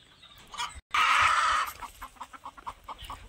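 Free-range country chickens on a poultry farm cluck in a quick, irregular series close by, with one louder squawk near the start and no talking.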